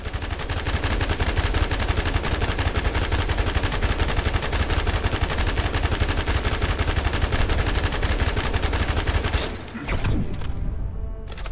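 Rapid sustained automatic gunfire in the shooter game The First Descendant, a loud continuous stream of shots that breaks off briefly near the end and then resumes.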